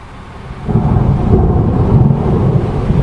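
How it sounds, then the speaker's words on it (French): Thunder from a night thunderstorm near Clermont-Ferrand and Vichy rolls in after a quieter start and swells into a loud, sustained low rumble that carries on to the end, with a faint wash of rain beneath it and no voices. "Magnifique cet orage nocturne."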